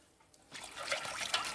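Cold water poured into a bowl of Jello mix in a kitchen, a soft close trickle that starts after a quiet moment and keeps flowing to the end.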